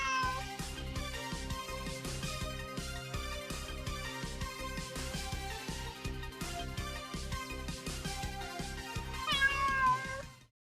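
Cats meow repeatedly and loudly over a steady, rhythmic musical backing with percussion, running continuously for about ten seconds before cutting off.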